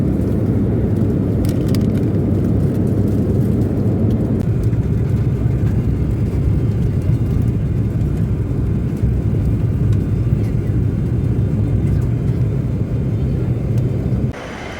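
A Yeti Airlines airplane at Pokhara airport, heard as a loud, steady engine roar and whir that holds for most of the stretch before dropping off sharply at the very end.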